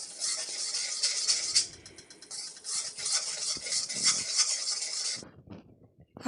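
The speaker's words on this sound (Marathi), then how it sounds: "तो गूळ वितळून घ्यायचा ते एकसारखं आपल्याला हलवून घ्यायचं आहे" Jaggery melting in a pan while being stirred: a continuous bright scraping, sizzling texture close by for about five seconds, then it stops abruptly, leaving faint handling sounds.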